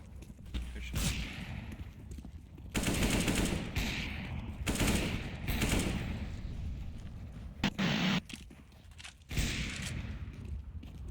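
Bursts of rapid gunfire from a shooter video game crackle in several loud volleys with short gaps, mixed with game effects.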